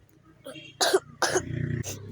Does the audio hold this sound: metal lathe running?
no